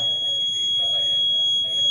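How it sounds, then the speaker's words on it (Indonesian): A fire alarm panel in a fire security system sounds a steady, high-pitched continuous tone, with a low murmur of background activity beneath it. "Ini fire alarm."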